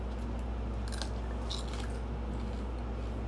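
Two or three crisp, crunchy bites into a homegrown bell pepper stand out close up over a steady low background hum.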